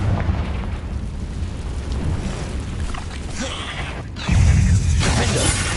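Confringo blasting spell in Hogwarts Legacy, a loud rumbling explosive burst with rolling low booms and debris-like crackle, a fresh heavier blast hitting near the end, no talk.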